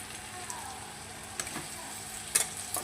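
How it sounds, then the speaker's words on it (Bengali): Onion frying with potatoes in a little oil, a faint constant sizzle broken by a few light stirring clicks and one sharper crackle toward the end. "পেঁয়াজ দিয়ে দিলাম।"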